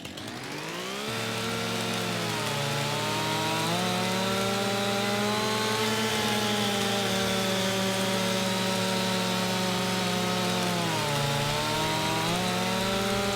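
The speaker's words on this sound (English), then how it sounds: "I'm a little bit uneasy about the chainsaw" A chainsaw cuts into a tree in Farming Simulator 25, its engine buzzing loud and close without a break, the pitch dipping and rising as the blade bites into the wood.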